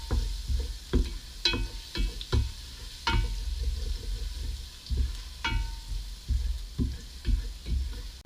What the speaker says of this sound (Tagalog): Okay, let's put the garlic.